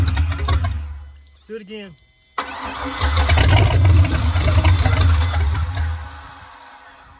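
A Volvo Penta 5.7 boat engine, once a 5.0 swap and bought defective, cranks briefly, then catches and fires into a loud, rough running roar that holds steady, with a short spoken phrase during the pause before it starts.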